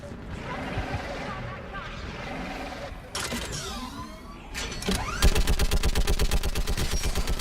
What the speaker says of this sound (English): Get on that gun up there and do some damage!